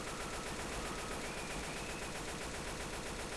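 Rapid, steady automatic gunfire in Left 4 Dead 2 rattles continuously at low level, an even stream of quick shots with no pauses or voices.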